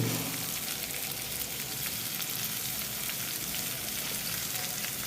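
Green chilies hiss loudly in hot oil over raised heat, a dense, continuous frying sizzle that stays close and even throughout with no talk.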